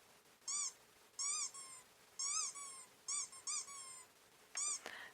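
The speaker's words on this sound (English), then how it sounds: "Here's the actual sound of a squeaker toy." Recorded squeaker dog toy squeezed in six short, sharp, high-pitched squeaks spaced unevenly over a few seconds, close and clear against a quiet background.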